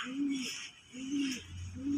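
A Giribaj pigeon with red eyes coos close by in three low, rolling phrases with short pauses between them.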